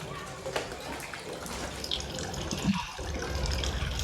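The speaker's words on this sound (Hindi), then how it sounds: "हम अपने खेत में पानी लगाने लगे हैं भाई।" Water flowing from a pipe to irrigate a vegetable field outdoors, a steady, fairly close rushing wash with a slight splashy texture that continues throughout, no talk.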